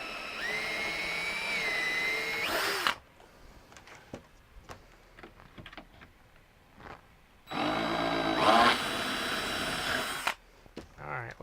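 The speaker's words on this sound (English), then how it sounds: "I'm just making holes in here so that I can add screws to anchor this in." A drill bores screw holes to anchor a mount for a wire bird skeleton, making two sustained whirring bursts a few seconds long at moderate level, separated by quieter handling noises.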